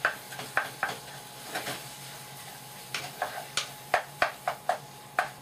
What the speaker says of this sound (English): Okay, we'll add the onions now. Lots of onions.